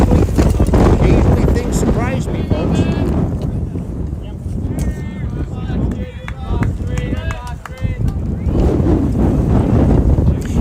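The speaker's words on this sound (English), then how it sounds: "that wind has picked up. Things are kind of flying around" Strong wind buffets the microphone at an outdoor high school varsity baseball game, a loud continuous roar with gusts, while people talk over it.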